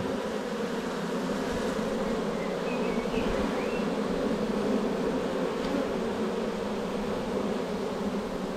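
A dense, steady drone of many honeybees buzzing continuously up close at a hive entrance during transfer of a swarm from a nucleus box into a hive, with no pauses or other sounds.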